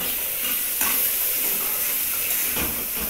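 Soybean curry sizzling and frying in hot oil in a pan, a steady close, loud hiss throughout with no talking.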